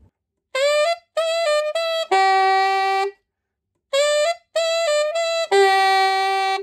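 A harmonica plays two short repeated blues phrases of quick bending notes ending on a held, slightly lowered flat-third tone, separated by silence, close and clear.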